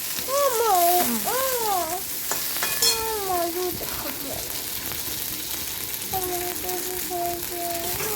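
Tomatoes fry in oil in a pan while being stirred, a steady sizzle running under a person talking through most of the stretch.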